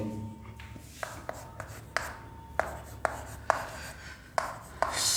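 Chalk or marker taps and scratches across a classroom board, a series of sharp, evenly spaced clicks with short strokes between them, close and moderately loud over a soft room hum.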